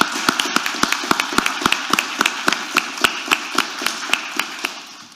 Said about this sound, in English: So please give them a very nice round of applause.